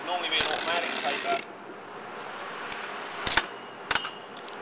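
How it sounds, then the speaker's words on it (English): Hand tape gun sealing a cardboard box, with a loud tearing screech of tape pulled across the flaps followed by a few sharp clicks and snaps as the tape is cut, close by. "I'm using a hand tape gun here, but it'd normally be an automatic taper."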